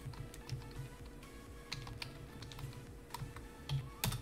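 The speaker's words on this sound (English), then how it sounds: "Let me type in the chat for you." Fast, uneven typing on a computer keyboard in bursts of light clicks, close up and fairly quiet, with one sharper clack near the end and no voices.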